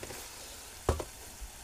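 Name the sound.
onion frying and sizzling in a pan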